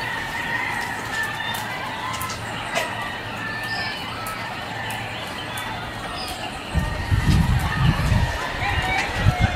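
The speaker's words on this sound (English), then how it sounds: "there's a lot of roosters or chickens, roosters and chickens, around here" Roosters and chickens crowing and clucking on a morning in Naranjito, Puerto Rico, repeated calls spread through the background over a steady outdoor ambience, with a louder burst of nearby rustling or activity toward the end.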